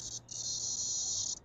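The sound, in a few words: cicada trapped inside a truck setup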